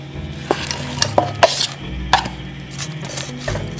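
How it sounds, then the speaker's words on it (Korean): Onions and mushrooms sauté in olive oil in a pan, with a low background sizzle. Sharp clinks and scrapes of a utensil being stirred against the pan break through it. "양파 먼저 조금 볶다가 양송이 넣을게요"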